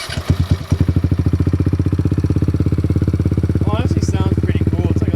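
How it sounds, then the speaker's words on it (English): A 2018 Kawasaki Z125 small motorcycle engine cranks and catches, then settles into a steady, close, rapid idle thump that carries on to the end. "So we'll fire this thing up real quick, maybe a little sound test"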